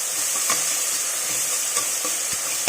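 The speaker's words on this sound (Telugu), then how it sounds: "దీనికి అది పోయే వరకు ఫ్రై చేస్తున్నాను" Ginger garlic paste and coriander fry in a pan with a steady, close hiss and sizzle, broken by a few soft stirring scrapes and light pops.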